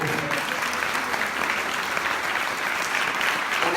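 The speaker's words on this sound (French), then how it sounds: "j'aimerais qu'on applaudisse Françoise et toute l'équipe qui a œuvré" Steady, full applause from a parish congregation during a harvest service, sustained clapping at an even level throughout, close and enveloping without speech.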